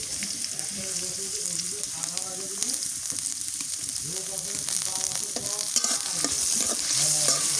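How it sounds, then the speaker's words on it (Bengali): Chopped onion and green chillies lightly frying in a pan, a continuous close sizzle with scraping stirring strokes of a spatula throughout, growing a little louder toward the end. "কাঁচামরিচ আর পেঁয়াজ কুচি হালকা করে আগে ভাজা নিই।"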